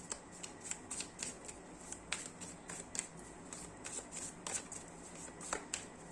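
Tarot cards shuffled close up, a steady run of crisp riffling flicks and soft card slaps repeating throughout, fairly quiet.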